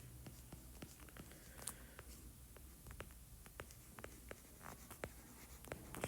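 Pen writing on paper during a biology lesson on blood circulation, with steady faint scratching strokes and small taps throughout, quiet and close.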